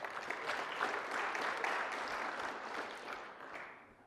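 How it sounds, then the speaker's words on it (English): An audience at a gathering breaks into a broad wash of applause, moderately loud and sustained for several seconds before tapering off. "I'd love it if we could give a round of applause for the people that support us"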